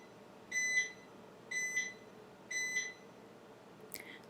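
An air fryer beeps in three evenly spaced, bright electronic bursts, each a quick double tone, over a quiet kitchen background hum, then a short final chirp.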